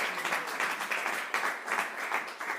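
A church congregation applauds together in praise: steady, dense clapping from many hands, with rhythmic surges, heard a little way off and fairly faint, no voices over it.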